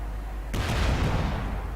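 A tank gun fires in Company of Heroes 2, with a single sudden loud blast followed by a broad, rumbling decay that fades over about a second.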